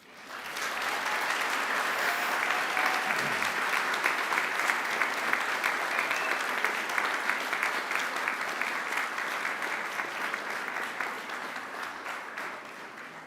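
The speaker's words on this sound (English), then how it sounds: "And now I invite you to give them a mighty round of applause." A large audience at a Macquarie University graduation ceremony applauds in a dense, steady roar of clapping that holds for over twelve seconds and tapers slightly at the end.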